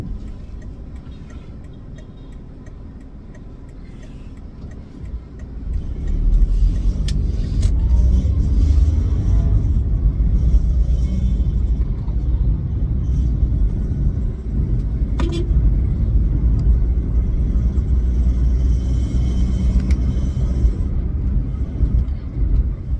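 A 2017 Toyota Wigo G engine steps up from a quiet idle to a loud, sustained rev after a few seconds, holding a dense droning roar with vibration and faint whistling on top.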